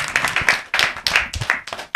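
An audience claps at a school event in a broadcast studio, with dense, uneven hand claps swelling in bursts close to the mic.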